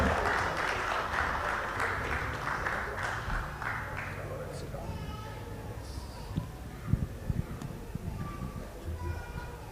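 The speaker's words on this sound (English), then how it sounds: "Let's have a round of applause." An audience at a military literature festival session in Chandigarh applauds panelists as they come on stage; a broad wash of clapping fades after a few seconds, followed by a voice speaking over a hall microphone.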